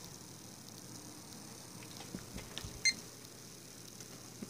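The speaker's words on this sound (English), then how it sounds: "Well, there's a beep." One short electronic computer POST beep sounds once at startup over a steady low hum, with a few faint clicks just before it.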